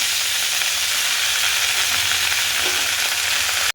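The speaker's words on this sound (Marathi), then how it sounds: "कढईमध्ये 1 टीस्पून तेल टाकून मी मेथी यामध्ये थोडीशी फ्राय करून घेणार आहे" Fenugreek leaves fry in a teaspoon of oil in a kadai, giving a loud, steady, close hissing sizzle that runs unbroken and then cuts off abruptly.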